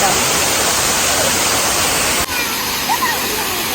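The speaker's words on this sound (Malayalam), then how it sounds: "ഇതാണ് മലപ്പുറം ജില്ലക്കാർക്കൊക്കെ അറിയപ്പെടുന്ന ഒരു വാട്ടർഫോൾ" A waterfall in Malappuram district, Kerala, gives off a loud, steady, broadband roar of rushing water that fills the whole clip without a break.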